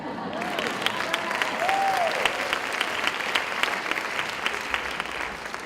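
Sustained applause from an audience at a Palm Beach County awards ceremony at Lynn University, a steady dense clatter of many hands throughout with faint crowd voices and a brief whoop mixed in.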